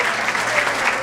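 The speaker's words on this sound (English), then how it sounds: "a big round of applause for Joe and his mom sharing a special dance" Wedding guests clap for a groom and his mother after their special dance, a brief, dense burst of applause at moderate volume with no talking.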